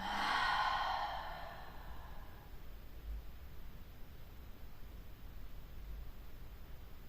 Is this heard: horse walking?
no